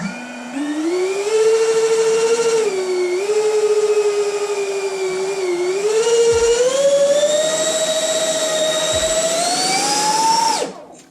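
Twin 30mm electric ducted fans on a foam RC F5 Tiger II model jet spin up close by with a loud, steady whine that climbs in pitch in stages before cutting off abruptly.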